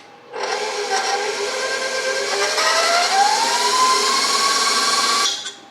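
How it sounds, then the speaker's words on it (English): Electric hand mixer beating brownie batter, a steady close whir that starts abruptly, holds with a slowly rising pitch for about five seconds, then cuts off. "I'm just gonna beat this really quickly until it's starting to be smooth"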